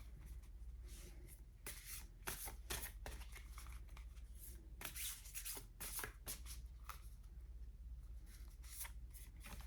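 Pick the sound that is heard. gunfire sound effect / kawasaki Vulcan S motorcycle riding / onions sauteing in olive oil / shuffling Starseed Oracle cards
shuffling Starseed Oracle cards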